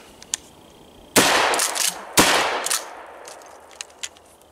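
A Winchester PDX1 12 gauge shotgun load of buckshot and slug fires twice about a second apart, each shot a loud, sharp blast with a short decaying tail and no talking.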